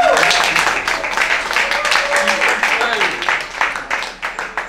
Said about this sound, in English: please give a round of applause for Madam Chioma Ogwuchi.